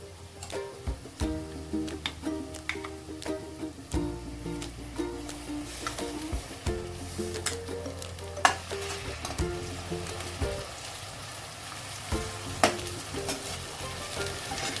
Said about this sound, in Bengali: এখন আমি আদা রসুন আর কাঁচা লঙ্কার পেস্ট দিয়ে খুব ভালো করে মিশিয়ে নেব